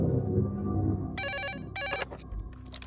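A telephone rings with a bright trilling electronic bell in two close bursts, loud and near, over a low background rumble, with no voices.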